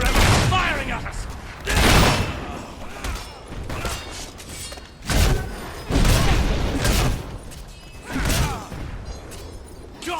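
Gunfire rings out in a Fable III battle at a fortress gate, with bursts of shots and booms coming every couple of seconds, loud and sharp over a din of combat noise.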